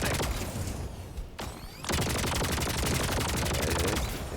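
In the video game Helldivers 2, gunfire is aimed at a bunker: dense, loud automatic shooting with a short break, then another sustained stream of rapid shots.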